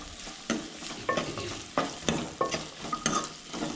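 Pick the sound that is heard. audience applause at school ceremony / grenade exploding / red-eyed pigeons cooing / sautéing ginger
sautéing ginger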